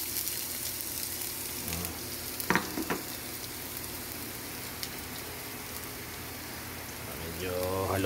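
Garlic sautéing in a pan for a vegetable dish, a steady close sizzle and crackle with a few stirring clinks and scrapes partway through.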